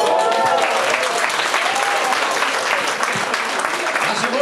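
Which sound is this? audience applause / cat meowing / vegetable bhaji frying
audience applause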